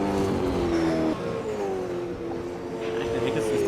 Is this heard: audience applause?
no